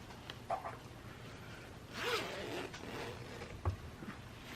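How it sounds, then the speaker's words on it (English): A zipper drawn shut on a fabric bonding pouch holding a ferret, one soft, close zip run lasting under a second amid faint rustling and small handling noises. "And then you zip the bag."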